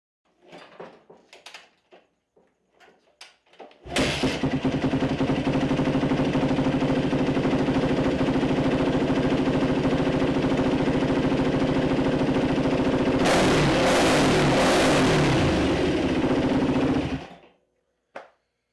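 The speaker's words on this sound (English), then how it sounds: "now it starts first kick. It idles properly." A Yamaha YZ426F dirt bike with a freshly cleaned carburetor is kicked over a few times, then catches and settles into a steady idle. The idle is loud and continuous, picks up briefly near the end, then stops.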